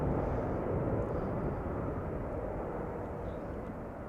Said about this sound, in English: Oh, Transavia A321neo also behind the Cargolux 747 by the looks of it.